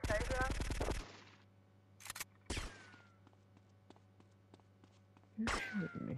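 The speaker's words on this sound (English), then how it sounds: "Who's shooting me?" Rapid automatic gunfire from the video game GTA Vice City Definitive Edition opens loud, followed by scattered single shots and thuds over a low game hum, with another loud burst near the end.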